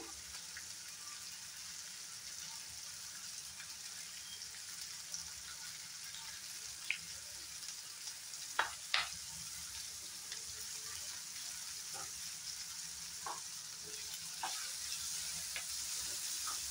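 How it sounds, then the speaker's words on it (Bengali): Capsicum frying in a pan for paneer curry, a steady soft sizzle throughout with occasional crisp pops and stirring scrapes, close and alone. "ক্যাপসিকামটার সাথেও আরেকবার ভালো করে ফ্রাই করে নেব।"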